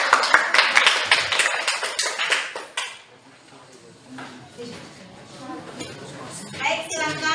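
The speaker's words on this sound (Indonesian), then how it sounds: "Tapi sebelum itu kita tepuk tangan dulu ya." A classroom of students claps together before an evaluation, a burst of dense rhythmic clapping for about three seconds, then it stops and quieter voices and room sounds follow.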